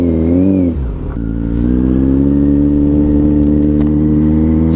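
A 2021 Kawasaki Z900 motorcycle with an aftermarket exhaust revs hard close up, climbing, dipping sharply, then holding a loud, steady, throaty idle-to-high drone.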